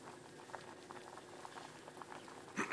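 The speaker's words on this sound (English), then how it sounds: "Still boiling." Pasta water for shrimp linguine boils in a pot on the stove, a soft steady bubbling with scattered pops, quiet and close, ending in a brief louder clatter.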